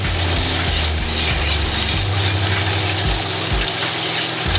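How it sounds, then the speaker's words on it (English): Water poured into a pan of simmering brown sugar glaze for a copycat Popeyes chicken sandwich, a loud continuous gushing hiss and sizzle with a low pulsing rumble. "I am going to add just a little bit of water to this as well."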